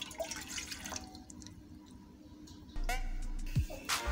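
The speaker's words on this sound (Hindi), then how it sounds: "पहले ये पानी शामिल करेंगे" Water runs and pours into a cooking pot to boil macaroni, heard close by as a steady gush after scattered kitchen drips and clinks.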